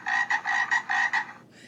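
A frog croaks in four loud, close, buzzing bursts with brief gaps between them, then falls quiet before a faint fifth call begins at the very end.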